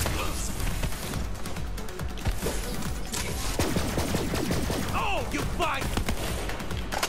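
Rapid bursts of gunfire from the Borderlands 3 video game, dense and continuous with thuds and crashing impacts, with voices faintly in the background.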